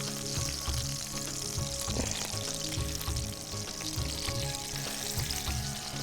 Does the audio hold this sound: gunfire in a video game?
no